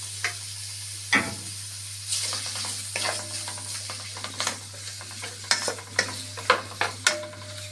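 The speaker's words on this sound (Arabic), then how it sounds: "وهنزل بالسمين اشوحه" Beef fat sautéing in a pan with a little oil, a soft steady sizzle broken by occasional stirring clinks and ticks of a spoon against the pan, over a constant low hum, no talk.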